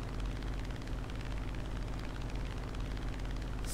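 Engine drone of an F8F Bearcat fighter plane in the War Thunder video game, running at about 60% throttle, a steady loud low rumble that continues without a break, with no talk.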